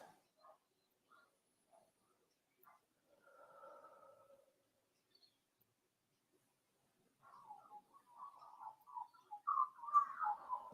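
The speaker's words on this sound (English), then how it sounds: "Can you hear the birds in the background?" Faint, sparse bird calls in a quiet outdoor setting, a few isolated chirps early, then a livelier run of birdsong building toward the end.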